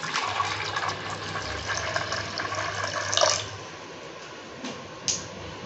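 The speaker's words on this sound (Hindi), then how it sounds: "अब पानी ऐड करेंगे।" Water is poured into a pressure cooker holding potatoes, with a steady splashing gush for about three seconds. Quieter drips and a couple of small knocks follow.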